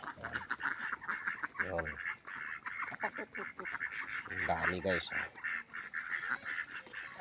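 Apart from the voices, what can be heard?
geese honking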